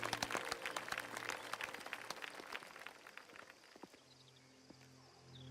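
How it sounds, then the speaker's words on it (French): Applause in a video game at a Sicilian family celebration, a burst of many hands clapping loudly at first, then thinning into a few scattered claps as it fades, with a low hum beneath. "On applaudit."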